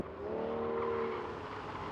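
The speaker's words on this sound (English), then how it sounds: "Now we begin the figure 8 test of the Aston Martin Vanquish." An Aston Martin Vanquish engine hums steadily as the big car runs through a figure-eight handling test, a brief moderate whine rising and fading with no talking.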